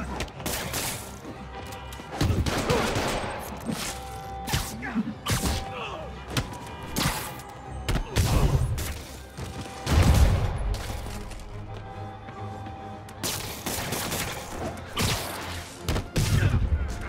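Enemy gunfire in Marvel's Spider-Man Remastered, heard as scattered bursts of shots and impact thuds in a busy combat scene with repeated loud hits, mixed with game sound effects and shouting voices.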